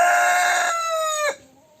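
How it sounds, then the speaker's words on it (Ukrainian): A rooster crows close by, one loud, strained call that holds steady and then breaks off sharply, followed by quiet. "а ті півень каже, добрий ранок"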